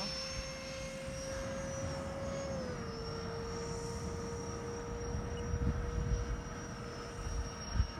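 Two Freewing 90mm F-4 RC jets with electric ducted fans fly in formation, a steady high whine with a slight pitch drop as they pass at a distance over a field, with faint voices.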